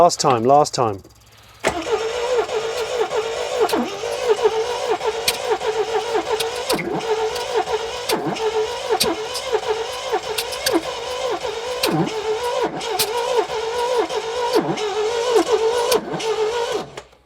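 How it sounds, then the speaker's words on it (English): The starter motor cranks the engine of an old 16-valve British sports saloon, a barn find that sat for 35 years. A brief burst is followed by a long, steady, loud cranking whine with rhythmic pulsing that never catches. "I feel sorry for the starter motor."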